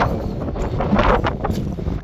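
Steady wind buffets the microphone in a continuous rough rumble with gusty surges, loud and close, above a canyon on the Colorado River.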